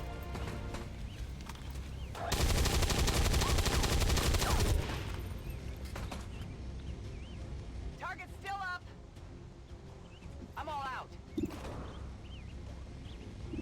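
Gunfire in the turn-based tactics game XCOM 2 erupts as a dense, loud burst lasting a couple of seconds, followed by quieter game effects and faint chirps, with a person talking throughout.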